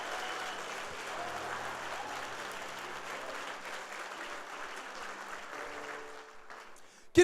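A church congregation applauds steadily during a Sunday worship service, a dense, even wash of clapping that fills the room for several seconds before thinning out at the end.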